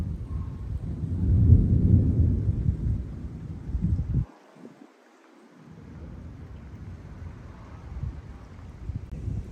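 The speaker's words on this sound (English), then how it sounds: "Thunder." Deep, rolling rumble of thunder that swells and fades, then a brief lull before a lower, steady rumble continues.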